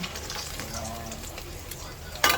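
Crispy tawilis fish frying in a pan gives a steady close sizzle, ending in a louder burst of stirring scrapes; soft talk can be heard faintly underneath.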